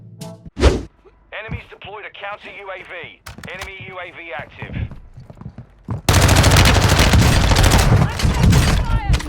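Video game gunfire from an F-Tech Ripper 56 rifle in Warzone 2.0. A few sharp isolated shots come first, then a long, loud, dense automatic burst over game audio, with someone talking over the earlier part.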